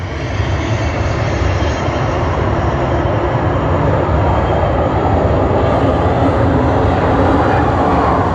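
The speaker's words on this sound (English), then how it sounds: "Another plane." A jet airplane at Sydney Airport roars continuously, a loud, broadband engine rumble and hiss that holds steady throughout with no other sounds standing out.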